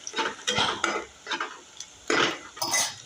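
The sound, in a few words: onion frying in a nonstick pan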